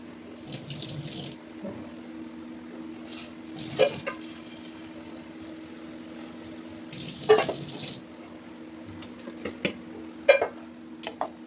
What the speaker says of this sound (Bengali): ভাতে জল কম ছিল আমি আবার একটু জল দিয়ে দিলাম